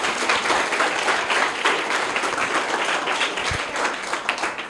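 Loud, sustained clapping from an audience at a children's quiz competition, rewarding a girl's correct answer; a dense, even roar of many hands with no talking over it.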